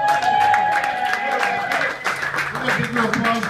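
Audience applause at a live music show, a dense crackle of clapping that follows a sustained tone and continues steadily, with a voice talking over it.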